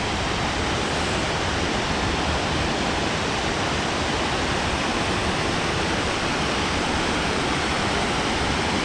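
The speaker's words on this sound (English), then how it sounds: "The Falls of Fala." Falls of Fala waterfall on the West Highland Way in Scotland, a loud, steady broadband rush of falling water that fills the whole stretch without a break.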